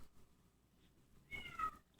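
A cat gives a faint, brief meow in a quiet room, with a soft higher chirp right at the end.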